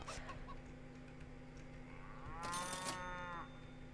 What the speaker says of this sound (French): Oh, elles sont trop mignonnes, les petites vaches.